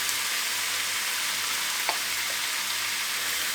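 Chinese potatoes (koorka) stir-frying with salt in a pan give a steady, close hiss of sizzling oil, with a faint scrape or tap from stirring partway through.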